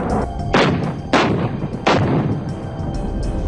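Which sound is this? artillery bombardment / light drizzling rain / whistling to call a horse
artillery bombardment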